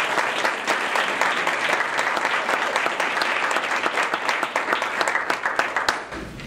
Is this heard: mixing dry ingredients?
no